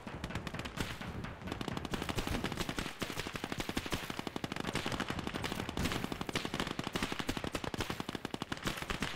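Rapid, sustained machine gun fire from the video game Gates of Hell, a dense rattling stream of loud bursts with barely any breaks, alone for the whole stretch.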